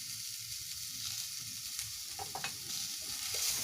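Turmeric and salt being stirred through food frying in a pan give a steady close sizzle, broken by a few scraping strokes of the spatula toward the end, with no voices.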